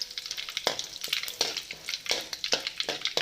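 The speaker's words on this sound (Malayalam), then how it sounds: "നമുക്ക് ഈ കറിവേപ്പില ഇട്ട് കൊടുക്കാം." Curry leaves added to hot oil with spluttering mustard seeds, a crackling sizzle with a series of regular sharp spitting bursts, close and fairly quiet, and no voices.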